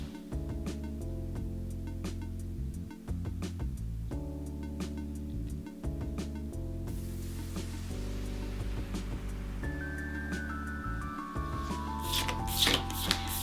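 A Gardens & Goblins tarot deck is shuffled by hand, with repeated rapid riffling and card slaps in bursts over a soft steady background tone, close and clear, with faint rising beeps near the end.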